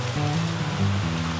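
Monsoon rain falls outside a resort veranda in Murti, a steady, even wash of noise with a low hum underneath.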